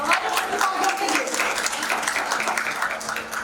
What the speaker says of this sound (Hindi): एक बार मेरे सारे टीम मेंबर क्यों ना जोरदार तालियां बजाएं सभी हमारे प्रतिभागियों के लिए